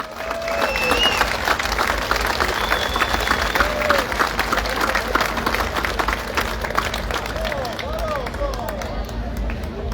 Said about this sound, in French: je voudrais un tonnerre d'applaudissements pour la municipalité et pour le département